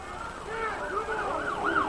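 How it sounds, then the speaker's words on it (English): An ambulance siren wails in rising and falling sweeps as it passes at a distance, moderately loud over crowd and background noise at a 1999 football game. "It's an ambulance going by."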